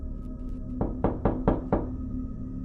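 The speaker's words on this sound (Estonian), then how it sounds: "Sa koputad sõrmenukkidega, aga vastust ei saa." Bare knuckles rap on a door five times in a quick, even series, close and crisp with nothing else competing.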